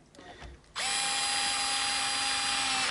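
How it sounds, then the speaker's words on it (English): A cordless power driver, a replacement for an older Bosch, whirs up sharply after a quiet start and holds a steady, loud, high-pitched motor whine to the end, with no talk. "Easy to charge, easy to use power driver."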